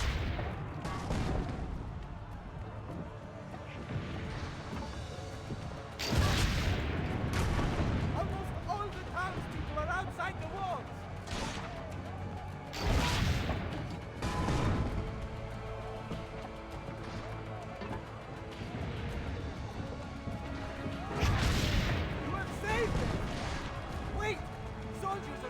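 Cannon fire in Assassin's Creed Brotherhood, with several heavy booming blasts at irregular intervals over dense game noise, music and battle sounds while someone talks over them.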